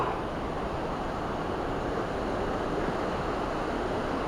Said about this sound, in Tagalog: Yan yung falls.